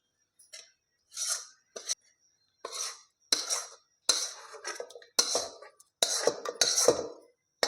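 Masala being added to cooked chicken in a kadhai and stirred, a series of scraping and clinking utensil strokes against the pan in irregular bursts with short pauses, close and moderately loud, no talking.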